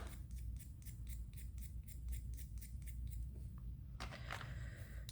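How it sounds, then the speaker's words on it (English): X-Acto knife shaving polymer clay, a quick series of faint, close scraping strokes in a regular rhythm over a low hum, ending with a few slightly louder cuts. "I'm just shaving this off with an X-Acto knife."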